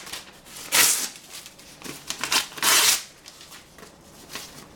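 Sheets of paper handled and torn for a papier-mâché project, with two loud crisp rustling bursts among softer crinkling and shuffling, close and without talk.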